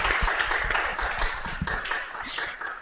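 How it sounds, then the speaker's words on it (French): Applause for guests at a media discussion event, a modest audience clapping in uneven bursts at close range, with some voices and talk mixed in. "Je pense qu'on peut les applaudir"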